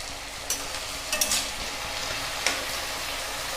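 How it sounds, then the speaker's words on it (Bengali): Water poured into spices frying in a pan for an egg curry sets off a brief hiss, then a low, steady sizzle with a few sharp stirring clicks. No one is talking. "এবার আমরা একটু জল দিয়ে দিব।"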